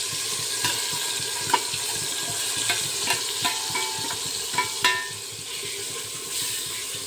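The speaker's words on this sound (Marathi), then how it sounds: "आता व्यवस्थित हे मसाले जे आहेत ते छान मिक्स करून घेणार आहोत" Spices being stirred into Maharashtrian masala rice in a pan, with steady sizzling frying and repeated scraping taps of a spoon against the pan in an irregular rhythm, close and fairly loud.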